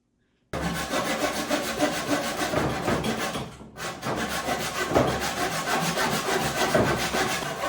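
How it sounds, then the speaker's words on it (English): A cheap hand saw cuts through lumber in quick back-and-forth strokes, loud and close, with a brief pause partway before the rasping rhythm resumes. "If I had one of my nice Japanese saws, that would have made a straight cut"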